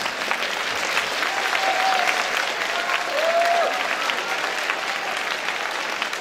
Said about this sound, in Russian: Алексей, примите аплодисменты.